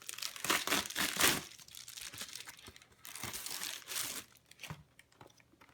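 Close, loud crinkling and tearing of packaging as the box for a Nintendo Switch USB-C adapter is opened, coming in busy bursts with short pauses between rips and crunches.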